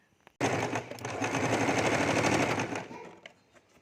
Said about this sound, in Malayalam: ആ ഭാഗം ഒന്ന് സ്റ്റിച്ച് ചെയ്ത് കൊടുക്കണം കേട്ടോ